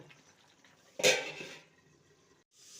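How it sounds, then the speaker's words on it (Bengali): A pan of potato and pointed gourd curry is stirred, giving one sharp clattering scrape of utensil against the pan, then quieter shuffling and a faint simmer before a brief pause. "ভালো করে নেড়ে নেব"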